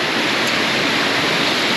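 A river rushing beneath a footbridge near Machu Picchu, a loud, unbroken wash of flowing water heard close by.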